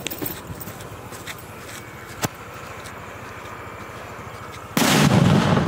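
A Kingkong/Arkong firecracker bursts with a sudden, loud, close blast after a stretch of quiet outdoor background with a faint earlier pop, the explosion roaring on to the end.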